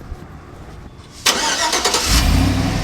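A 2004 Chevrolet Silverado truck with a 4.8 engine, K&N shorty headers, full exhaust and cutouts cranks and fires abruptly, then settles into a loud, deep rumbling idle heard up close.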